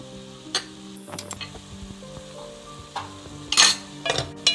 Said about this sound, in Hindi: अब हम इसमें 2 टेबल स्पून सोया सॉस डालेंगे, ओरिगानो 1 टी स्पून,